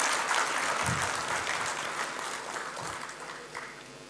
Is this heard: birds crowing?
no